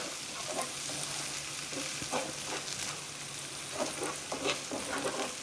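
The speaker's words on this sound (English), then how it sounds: "I'm just gonna start stirring it up and incorporating it in with the potato and chorizo" Eggs with potato and chorizo sizzle steadily in a pan while a utensil scrapes and stirs through them in irregular strokes, close up and without any talk.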